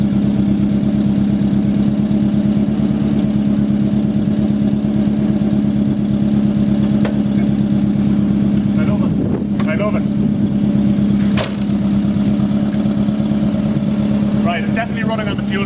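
A 1974 rat-look VW Beetle engine idles steadily and close by, a constant low throbbing rumble that continues under people talking throughout.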